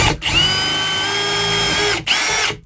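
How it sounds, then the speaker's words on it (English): A power drill runs steadily at high speed while boring a hole in the exterior wall of an RV trailer, with a whining motor, a brief pause, then a second burst, close and loud. "And I'll follow it up with the drill bit I told you."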